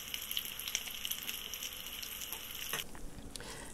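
Meatballs browning in oil in a pan give off a steady, close sizzle and crackle that runs on its own, then eases off and thins near the end.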